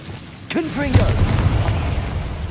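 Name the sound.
Confringo fire spell blast, from video game Hogwarts Legacy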